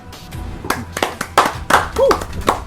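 A handful of separate, sharp hand claps punctuate a casual podcast conversation, spaced irregularly and heard close up alongside talking voices.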